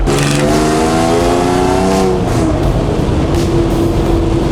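A supercharged 3.4-litre engine in a 1980 Toyota pickup revs and pulls away, its pitch rising and shifting steadily, loud and close with constant road roar underneath.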